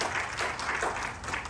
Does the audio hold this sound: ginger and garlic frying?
no